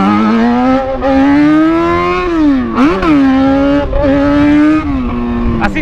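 A motorcycle riding along a dark road, its engine droning steadily close up with pitch rising and falling as the throttle changes.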